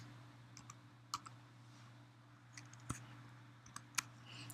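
Calculator keys are tapped in a slow, irregular series of sharp, close clicks, about six presses spaced across a few seconds over a steady low electrical hum while working out a Poisson probability.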